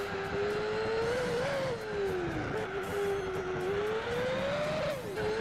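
A Black Car in Gran Turismo 4 drones with a steady, loud racing engine tone whose pitch rises and dips as it revs through gears, running continuously with no talk over it.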